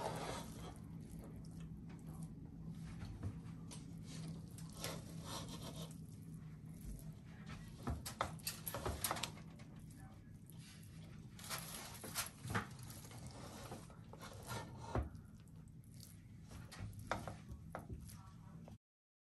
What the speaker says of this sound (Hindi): बिरयानी बिल्कुल रेडी है। अब हम इसको मिक्स कर लेंगे।